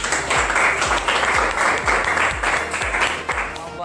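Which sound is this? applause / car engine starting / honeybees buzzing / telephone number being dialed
applause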